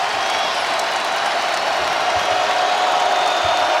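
A basketball arena crowd roars steadily in a college game, NC State Wolfpack fans cheering as their team takes the lead against Duke, a dense sustained wash of voices and applause throughout.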